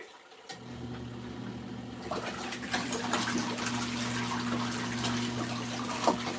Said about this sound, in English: we are still splashing everywhere